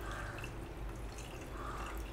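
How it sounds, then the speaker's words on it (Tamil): Water is poured into a pan of arai keerai greens during cooking. The liquid sound is a faint, steady splashing trickle that runs the whole way through, with no talking. "இப்போ வந்து இந்த தண்ணி வந்து நம்ம ஊற்றிட்டு,"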